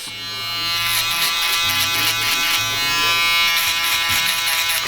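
An electric foil shaver buzzes steadily at close range while cleaning up the neckline during a barbershop skin fade, its motor hum wavering slightly as it moves across hair.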